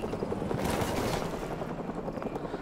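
Enemy helicopter in Call of Duty: Modern Warfare Remastered, its rotor chopping in a fast, steady pulse that stays fairly close, mixed with bursts of gunfire.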